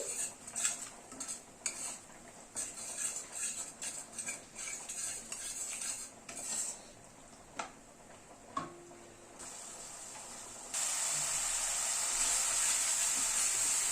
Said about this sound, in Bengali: কিশমিশ বাটাটা দিয়ে আবার একটু নাড়াচাড়া করে নিচ্ছি।